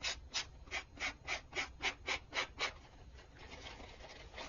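Rhythmic rasping strokes, about ten quick even passes, then softer continuous scraping; a nail file rubbed back and forth close up, sanding a dollar store booklet.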